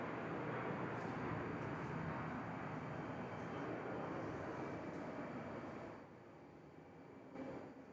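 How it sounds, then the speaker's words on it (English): A Qantas Boeing 737 taxis at Perth Airport, its jet engines giving a steady, broad roar at moderate distance that holds for several seconds, then drops noticeably in level near the end. "currently taxing out is Qantas 936, so it's over to Brisbane today with the 737"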